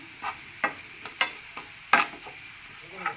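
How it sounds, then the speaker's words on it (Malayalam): Sambar powder fries with shallots in hot oil while a spoon stirs, making a soft background sizzle broken by sharp, irregular scraping strokes, about seven in quick succession, nearby and without speech. "സാമ്പാർ പൊടി വറുത്ത് ഇങ്ങനെ ഇടുമ്പോൾ നല്ലൊരു മണം വരും സാമ്പാറിന്"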